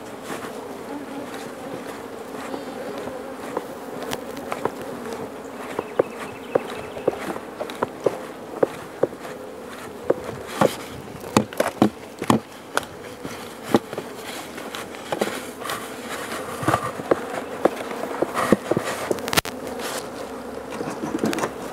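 Honey bees buzzing around a hive box outdoors, a continuous droning hum with footsteps and scattered knocks and clicks as the box is carried.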